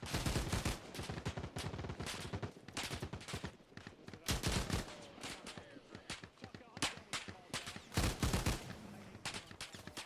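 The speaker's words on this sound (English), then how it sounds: "Slow the fucking rate of the machine gun fire." Machine gun fire rattles in the video game Arma Reforger, continuous loud, rapid bursts of automatic shots with only brief gaps throughout.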